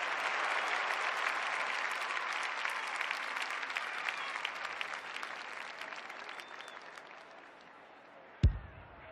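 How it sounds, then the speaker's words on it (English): Crowd roaring and cheering at an AFLW women's Australian football match featuring the Swans, a dense, steady wall of noise that slowly eases, ending with a sharp thump near the close. "The crowd noise tells you all you need to know."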